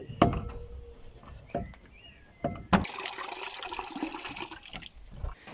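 Water splashing and pouring from a gutter-fed rainwater setup with a sand-and-filter bucket, with sharp knocks and clanks at first, then a steady louder rush of flow nearby; no voices.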